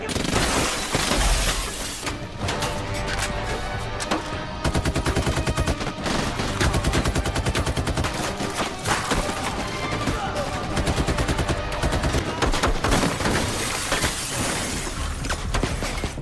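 Rapid gunfire rings out during an action-movie shootout aboard a ship, dense repeated shots layered under a constant loud score and effects, with brief shatter-like bursts and some shouting voices.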